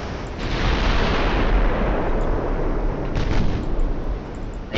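Naval gunfire from battleships and cruisers in a Japanese fleet engagement in the strategy game Ultimate Admiral: Dreadnoughts, a dense, continuous roar of overlapping artillery booms with no clear gaps, loud throughout.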